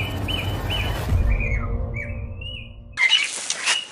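Caged starlings (jalak) chirp and whistle close by in a morning bird-sunning setting, with rising and falling song phrases over a low rumble, then a burst of bright, louder calls near the end.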